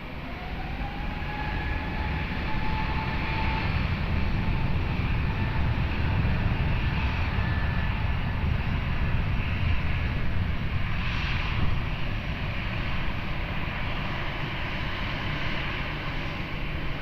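A jet airliner powers up for takeoff on runway 20 at Lisbon Airport, its broad engine roar swelling and holding steady at a distance, without any voices.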